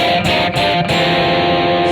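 Guitar strums two-note sixths chords with an unmuted middle string ringing, producing a dense, clashing wash of sound, several quick strokes in a row.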